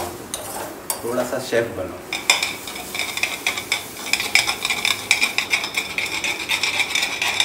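A spoon stirs and scrapes through soya sandwich filling in a bowl. Repeated clinks and scrapes of cutlery on the dish keep up a brisk, close rhythm, while a voice speaks briefly over the top.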